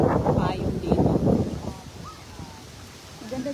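Strong wind buffets the microphone at a beach, a steady broad rush that swells and fades, with a person speaking over it at first and faint water sounds behind.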